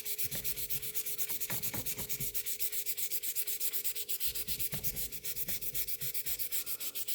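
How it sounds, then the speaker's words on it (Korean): Sandpaper is rubbed back and forth over a traditional Korean horn bow in quick, even strokes, a dry rasping scrape that repeats steadily and close up with no voices. "마무리는 조금 더 고운 사포로 문질러 주면 됩니다"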